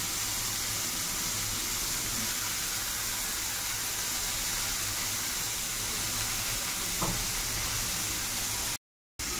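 Steady, broad hiss of pumpkin and carrot frying in a pan with onion and garlic, constant and fairly close with no pauses, ending in a brief cut to silence.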